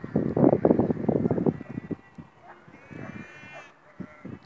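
Sheep bleat in a cluster of wavering calls near the start, then quieter scattered bleats follow across an open outdoor space.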